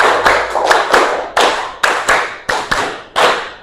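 A classroom of students clapping in unison, sharp synchronized claps grouped in rhythmic bursts of a five-clap pattern repeated, loud and close with brief gaps between groups.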